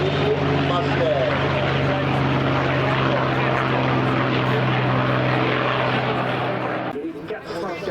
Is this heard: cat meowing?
no